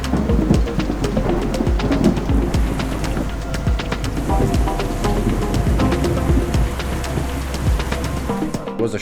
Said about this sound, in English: It was a short and intense thunderstorm,